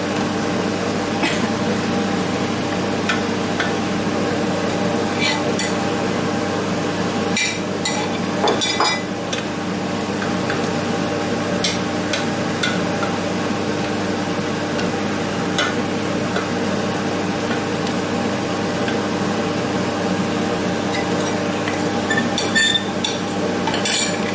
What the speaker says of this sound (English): And then just kind of stir it quickly from the middle.